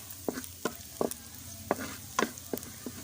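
Onions frying in a pan for a keema, cauliflower and potato curry, with a steady low sizzle under repeated clinks and scrapes of a spoon stirring, close and fairly quiet, with no one speaking.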